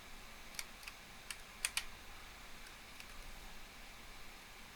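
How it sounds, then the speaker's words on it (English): Keys on a computer keyboard clack in a few quick, sparse taps, used to drive vehicles in Farming Simulator, faint and close over a steady low hiss with no voices. "I switched back to my keyboard instead of my controller to operate vehicles"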